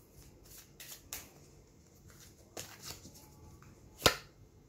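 Earth Magic oracle cards being shuffled and drawn: scattered soft riffles and card flicks, ending in one sharp, close snap of a card near the end, with no talking.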